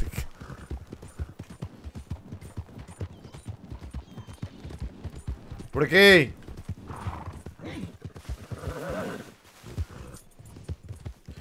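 Horse hooves clip-clop steadily in the Red Dead Redemption video game, with a loud whinny midway, under ongoing talk from players.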